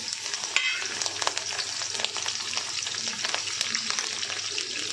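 Curry leaves and green chillies sizzling in hot oil in a kadai, a loud steady crackling hiss with scattered sharp pops and stirring scrapes, and no talk.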